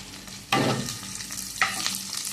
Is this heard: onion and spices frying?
yes